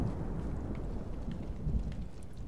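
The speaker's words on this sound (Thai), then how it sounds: "ฝนตกด้วย" Steady rain pours across the landscape in Ghost of Tsushima, a dense, even hiss with low rumbling underneath, continuous and fairly close throughout without any voices.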